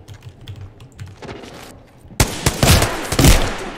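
Burst of rapid gunfire in an Apex Legends match, loud close shots clustered over the second half after quieter background ambience.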